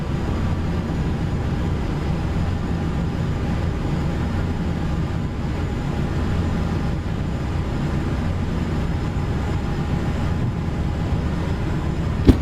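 Jet engine thrust in Flight Simulator X, a steady broadband roar holding at an even level throughout with a low rumbling body, continuous and close, no talk over it.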